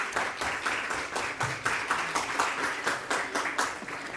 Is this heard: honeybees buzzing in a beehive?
no